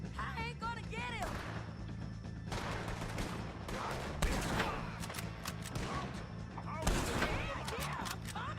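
Gunfire from the video game Red Dead Redemption 2 pops in scattered single shots and short volleys, some loud and near, under a steady background hum, with voices shouting between shots.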